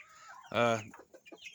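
Chickens in a cool, shaded coop on a warm morning give one loud, close, drawn-out squawk followed by softer scattered clucks.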